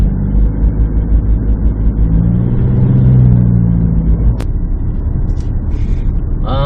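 Isuzu D-Max pickup engine in Shiftronic mode laboring steadily up a hill on a Sabah road behind a line of traffic, a loud continuous low rumble that swells around the middle and stays constant throughout.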